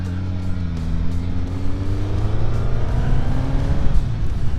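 A Suzuki GSX-S 1000GT motorcycle engine revs in the wrong gear on Switzerland's Grimsel Pass, a loud close-up drone whose pitch climbs steadily with rising revs, over wind noise and without speech.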